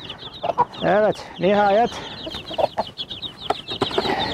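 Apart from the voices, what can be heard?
hen calling chicks, chickens clucking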